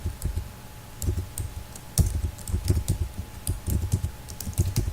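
Computer keyboard keys clatter in quick, uneven bursts as a Java project name is typed, the clicks close and steady throughout with no voices.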